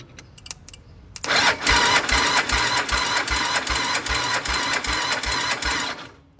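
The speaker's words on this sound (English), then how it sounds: "Bypassing the solenoid, the starter works." An ATV starter motor, with its solenoid bypassed, cranks loudly and steadily for about five seconds, giving a fast, even whirring chug with regular pulses. A few faint clicks come before it, and it cuts off abruptly at the end.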